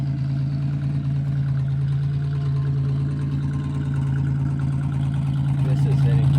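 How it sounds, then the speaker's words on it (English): A car with a freshly repaired exhaust idles steadily with a deep, droning note, close and fairly loud throughout, while someone talks over it. "I'm not too sure I'm a fan of that exhaust note."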